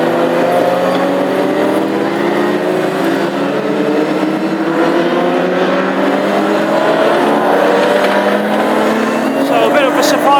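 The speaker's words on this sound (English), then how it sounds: "the car sounded a little bit rough" Engine of a classic hot rod race car on an installation lap at an Irish Grand Prix heat in Tipperary, running a little rough; a continuous loud engine drone with gradually rising pitch, steady throughout and mixed with background commentary.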